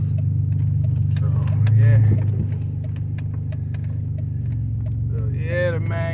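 A 2005 Dodge Magnum pulling out of a driveway after a snow storm, its engine a steady low rumble that swells briefly, close and continuous, with a voice talking over it.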